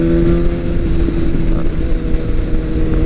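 A loud 2018 BMW S1000RR with an Akrapovic exhaust drones steadily at a low, throaty pitch, a continuous exhaust rumble with slight fluctuations and no clear revving peaks.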